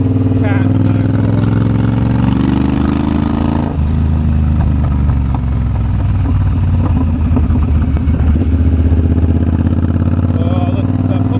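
A Triumph Bobber motorcycle with an aftermarket exhaust and cat idles loudly up close, its engine rumble steady with irregular pops and burbles from the pipe.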